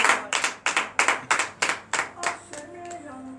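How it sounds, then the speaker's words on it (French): Congregation in a church clapping in a rhythmic series of about ten sharp, evenly spaced claps that fade toward the end, fairly close. "Donnez de vives acclamations à cette parole."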